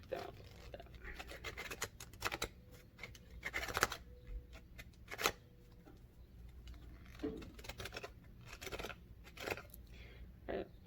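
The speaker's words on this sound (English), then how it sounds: "let's see what shuffling is like with this deck" A new 36-card oracle deck is shuffled by hand, with cards that stick together. Quiet, close riffles and scratchy card slides come in irregular bursts, with soft pauses between them.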